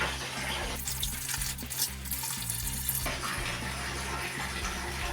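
Laundry is stomped down by hand in a tub of washing water. Sloshing and splashing surges come in uneven bursts at moderate volume, with no voices.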